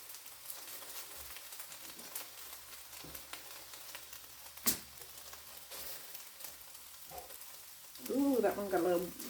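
Potatoes fry in a pan on the stove, giving a steady low sizzle and crackle throughout with brief clatters of stirring, and a person speaks near the end.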